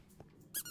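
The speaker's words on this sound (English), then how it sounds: "Don't know why this one makes a squeaky noise when it's rope." A rope dog toy in Minecraft gives one short, faint, high squeak near the end after a quiet stretch.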